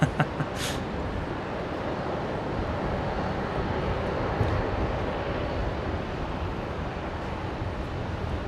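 Qantas Airbus A330 from Auckland descending to land at Brisbane, a steady, distant broadband jet rumble that stays even throughout without talk.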